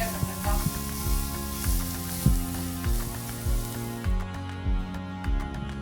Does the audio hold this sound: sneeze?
no